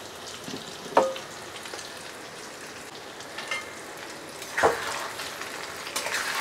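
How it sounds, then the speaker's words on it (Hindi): Chicken frying with onions in a pan over a medium flame, a soft continuous sizzle broken by a couple of sharp scrapes from stirring, with no voices. "चिकन डालने के बाद हम 3 से 4 मिनट मीडियम फ्लेम में पहले अच्छे से चिकन को भूनेंगे।"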